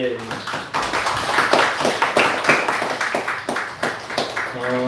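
A church congregation at a Sunday morning service claps steadily together, a dense run of hand claps filling the room for several seconds.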